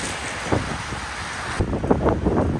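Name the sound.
strong wind blowing in Patagonia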